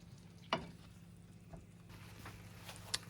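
Onions and melting butter fry softly in a pan for shrimp scampi, a faint, steady sizzle with a couple of sharp utensil clicks and light stirring.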